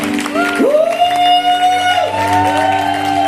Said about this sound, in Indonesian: Saya kasih tepuk tangan yang meriah bagi anak kita, saudara.